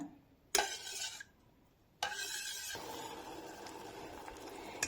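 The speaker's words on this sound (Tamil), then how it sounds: "சும்மா இந்த மாதிரி கிளறி விட்டு கொஞ்சம் நல்லா கொதிக்கட்டும்." A spoon scrapes and stirs sugar syrup in a pot in two separate bursts, with a low bubbling simmer continuing underneath afterward.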